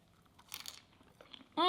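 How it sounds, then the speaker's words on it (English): A freshly baked, still-warm soft bread roll with a crisp crust is bitten close to the mic, giving one short, dry crunch followed by quiet chewing. A voice begins speaking right at the end. "Oh, the crunch of the bread."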